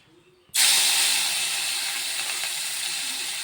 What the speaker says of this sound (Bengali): এবার তেলের মধ্যে মাছগুলিকে খুব সুন্দর করে মুচমুচে করে ভেজে নেব